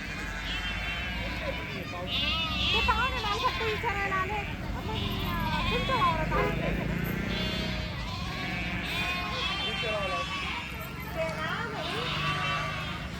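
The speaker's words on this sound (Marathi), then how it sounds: "इकडं मेंढ्या आलेल्या आहे आमच्याकडं" Flock of sheep gathered at a village pen, bleating repeatedly and overlapping throughout, near and fairly loud, with people chatting in the background.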